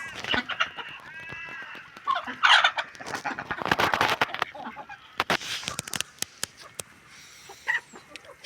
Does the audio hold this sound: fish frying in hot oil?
no